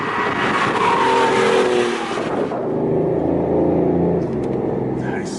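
A 2014 BMW i8 accelerates with a loud engine induction roar that rises in pitch, then settles into a lower, steadier drone as the car pulls on, close and prominent.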